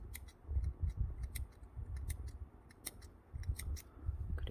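Close-up scissor snips cut notches into a doll's hanbok beoseon sock fabric, a quick run of sharp, faint clicks coming in small clusters with no voices.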